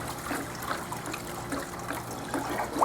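Water runs and splashes over rubber miner's moss matting on a swiftwater drywasher, rinsing out black sands with a soft continuous trickle and gurgle at moderate distance.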